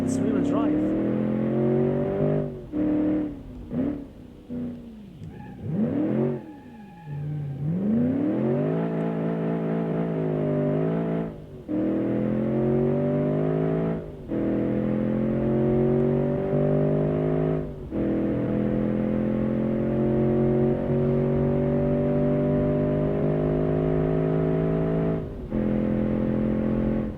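Game engine of a 1990s factory sleeper wagon with rear-wheel drive revs hard and steadily in a racing video game, rising and falling through gear changes with brief dips, loud and continuous under intermittent talk.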